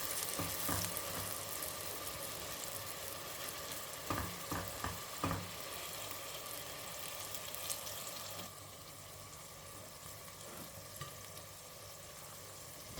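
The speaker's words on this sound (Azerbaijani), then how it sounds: "Ətlər biraz qovrulandan sonra doğradığım pomidorları da bura əlavə edirəm." Chunks of meat fry with chopped tomatoes in a pot, giving a steady dense sizzle with a few scraping stirs midway; the sizzle softens slightly toward the end.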